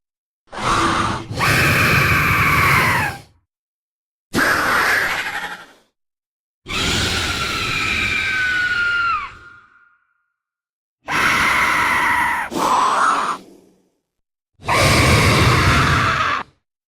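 A recording offered as the real-life Argentavis, the giant prehistoric bird, holds five loud, drawn-out rasping cries, each lasting a second or two and separated by short silences, harsh and breathy, with almost a screaming quality.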